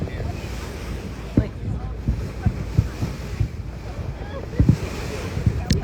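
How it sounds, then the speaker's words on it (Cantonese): A boat rocks on big ocean waves at night. Rushing wind buffets the microphone, with rough water noise and irregular thumps and knocks as the hull pitches. "係個船咧太大浪啦"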